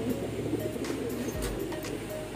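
Racing pigeons coo softly in an indoor pigeon showroom, low murmuring calls blending into a steady background hum with a few faint chirps.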